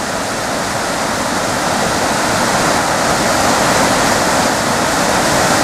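Loud, steady rushing of the Koka River along Route 5 in Japan, a dense continuous roar with no pauses or voices.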